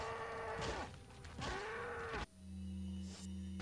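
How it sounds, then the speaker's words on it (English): Two long, deep cow moos, each swelling and then sliding down, from a cow in the video game Resident Evil 4, followed by a low droning hum of game background sound. "Yeah, I wouldn't mess with that cow if I were you."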